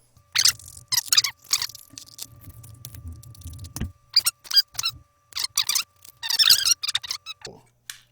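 Scissors cutting out a hand-drawn paper dungeon tile, a series of crisp snipping and rustling bursts in uneven rhythm, close and clear.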